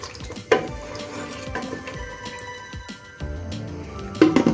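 Water pours and splashes into a metal pressure cooker holding mutton for nihari, with a few clinks and uneven gushes.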